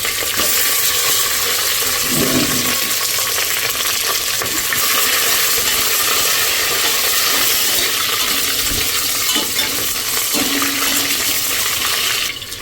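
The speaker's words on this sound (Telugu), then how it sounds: "నూనె వేడెక్కిందండి. ఉల్లిపాయలు," Onions drop into hot oil for a home-cooked biryani, giving a loud, steady, close sizzling hiss that runs unbroken throughout, with a few faint scrapes beneath it.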